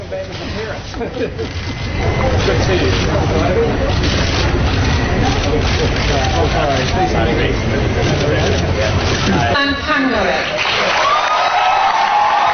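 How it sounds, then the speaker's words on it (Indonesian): Loud, sustained applause from a large crowd at a Friday-evening high school graduation ceremony as Kaisang Pangarep walks up to the stage, dense and continuous with a brief change near the end and voices mixed in. "Tepuk tangan riuh mengantar Kaisang Pangarep ke atas panggung dalam upacara kelulusan Jumat malam."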